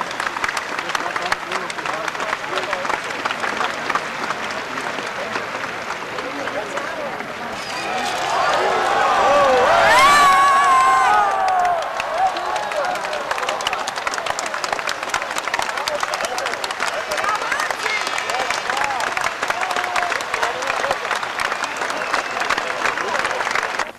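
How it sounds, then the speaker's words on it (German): A large outdoor crowd of spectators claps and cheers for a daredevil flyer after a short flight at a Tailor of Ulm reenactment, with steady distant applause that swells briefly into louder cheering and whistles midway. "Ein Applaus für Martin Hoffmann aus Karlsheim"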